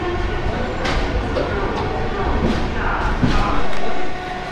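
Heard from on board, the Saraighat Express pulls into Guwahati with a steady, close, rumbling roll and clanks of the carriages, swelling slightly before easing near the end, with faint voices beneath.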